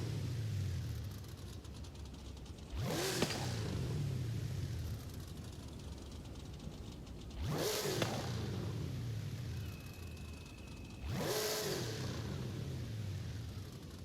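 In the video game Forza Horizon 5, an MG XPower muscle car with its original engine and a drag tune revs hard in three separate bursts, each roaring up and fading away over a steady rumbling background.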